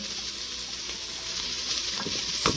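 Onions frying in a pot in a Ninja Foodi for slimming soup, giving a steady close sizzle and crackle throughout with no talking.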